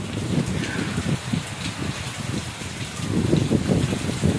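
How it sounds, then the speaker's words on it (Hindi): Steady heavy rain pours down, dense drumming on a surface with a constant wash of water, loud and close throughout. "ये देखिए बारिश है"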